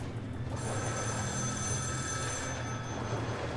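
A telephone rings inside the game Metro Last Light Redux, a steady metallic bell tone over a low mechanical rumble, moderately loud, no voices.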